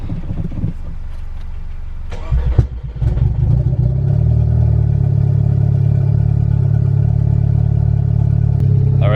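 A VW MK6 Golf R, troubled by a P0016 timing fault, cranks and catches with a brief clattering burst, then settles into a steady, close, even idle hum.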